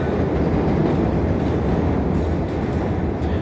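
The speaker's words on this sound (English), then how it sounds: "There's a train in the background." A train rumbles steadily in the background, a dense low roar of rail traffic that holds constant throughout with no voices over it.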